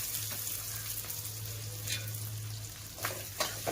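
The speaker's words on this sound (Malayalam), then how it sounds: "ഈ ഉള്ളി ഒന്ന് വഴന്ന് വരട്ടെ, നമുക്ക് എന്നിട്ട് മസാല ഇടാം" Onions sautéing in a pan for a jackfruit meal, a steady close sizzle of frying with a low hum beneath and a few brief stirring clatters toward the end.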